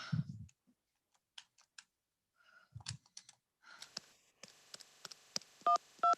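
A telephone is dialed in a radio play: scattered clicks and taps, a sigh, then a quick run of sharp dialing clicks ending in two short electronic tones, close and isolated.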